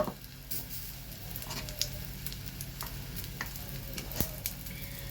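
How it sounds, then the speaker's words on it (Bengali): Potato tikka pieces fry in oil in a pan, giving a continuous close sizzle with light stirring scrapes and occasional soft taps, no talking. "একটা একটা করে আমি কিন্তু এগুলো ছেড়ে দিচ্ছি। এটাকে একটু ফ্রাই করে নেব।"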